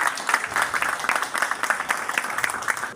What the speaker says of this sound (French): Et je vais vous demander encore une fois de l'applaudir,